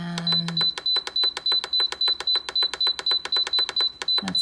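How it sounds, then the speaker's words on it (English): A pressure cooker, set to vent unsealed while cooking pulled pork, beeps rapidly and repeatedly for several seconds, a bright, evenly spaced string of electronic tones, loud and close. "that's a lot of beeps"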